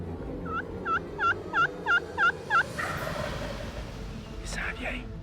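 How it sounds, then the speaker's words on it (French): A male wild turkey gobbling in the morning, a string of six quick, bright gobbles close together in a regular rhythm, followed by quieter rustling and faint background noise. "nos chasseurs attendent les premières vocalises matinales du dindon mâle"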